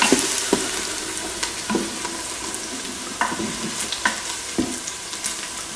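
Onions fry and brown in an Instant Pot, giving a crackling sizzle broken by regular, close scraping strokes of a stirring utensil, with no talking.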